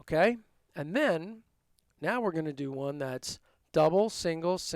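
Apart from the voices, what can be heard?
No everyday noise stands out behind the speech.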